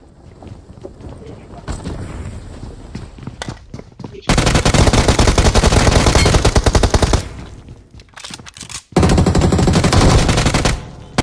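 Automatic gunfire rattles in BGMI gameplay at a military base factory, two long, loud, continuous bursts of rapid shots with a brief pause between. Softer, scattered background noise leads into the bursts.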